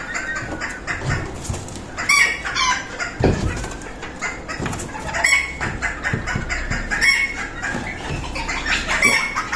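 Serama chickens cluck and squawk in short, irregular bursts, close by and fairly loud, with no talking.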